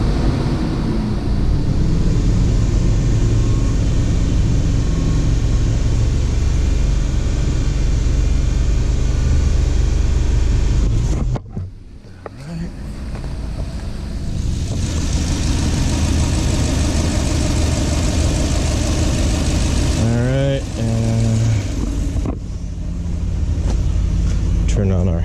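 A car engine revs up under load, a steady loud mechanical roar holding high before dropping briefly, then climbing again with rising whine sweeps near the end; speech may be present in the background.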